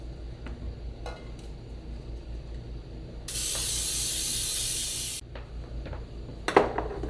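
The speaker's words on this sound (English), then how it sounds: "so we're going to go ahead and spray that." Flour-infused cooking spray hisses steadily from an aerosol can into a loaf pan for about two seconds, a close, bright, even burst set between quieter kitchen handling noises in a home kitchen.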